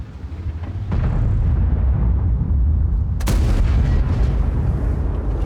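A tank's main gun booms in a World of Tanks battle, one heavy blast near the start and a second sharp report around the middle, each followed by a loud rumbling tail over constant low battlefield noise.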